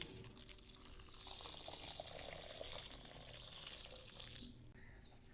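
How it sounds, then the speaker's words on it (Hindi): Water splashes and swirls steadily as grated potatoes are rinsed and stirred in a bowl, a close, continuous sloshing that fades briefly near the end. "अभी कद्दूकश किए आलूओं को अच्छी तरह से वॉश कर लेंगे हम।"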